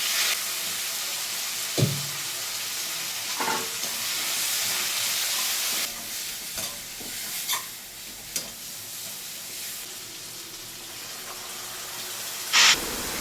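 A ground paste of coriander, garlic and ginger cooks in a pan for a stuffed brinjal rice dish, with a soft ongoing sizzle broken by a few stirring scrapes and clinks, close and without talk.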